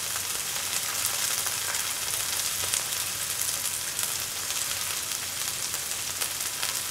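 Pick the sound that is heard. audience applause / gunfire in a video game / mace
mace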